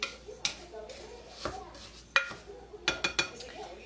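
Baked oatmeal batter is stirred in a bowl, with a spoon scraping and clinking against the sides in a handful of sharp knocks spread through quiet kitchen background.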